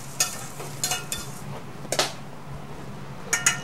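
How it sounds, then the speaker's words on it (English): Cooked eggplant scraped and scooped from a pan into a bowl, giving a handful of sharp clinks and scrapes of a utensil against cookware over a low steady hum, close and moderately loud. "Eggplant is done. So we're going to shift into the bowl."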